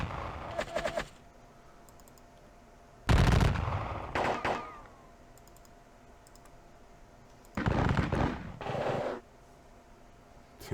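Volleys of gunfire sound effects from a turn-based American Civil War computer wargame at Perryville, short crackling bursts of musketry separated by quiet stretches, with light mouse clicks in between.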